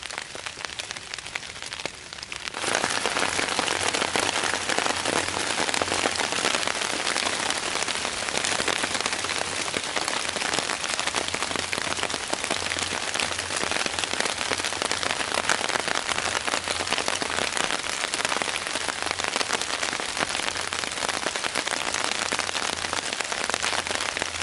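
Rain falling steadily on a surface outdoors in a forest, a dense, even patter that starts abruptly after a quieter opening and continues loud and uniform to the end.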